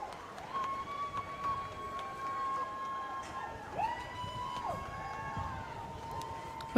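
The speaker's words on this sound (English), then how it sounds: "You can hear everybody cheering for their teams and for their" Grandstand crowd at the Royal Canadian Henley Regatta cheering rowing eights toward the finish, a steady distant roar with rising and falling whistle-like shouts and some voices mixed in.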